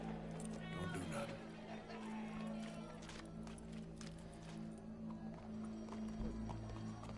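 Horse in the open-world Western game Red Dead Redemption 2, hooves clip-clopping beneath a low droning game soundtrack, with a faint snort or whinny.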